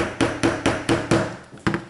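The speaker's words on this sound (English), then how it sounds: "Take your hammer and give it a few good taps" A hammer drives a pin into an SKS rifle trigger group, with about eight sharp, close metallic taps in a quick, even rhythm and a brief pause before the last two.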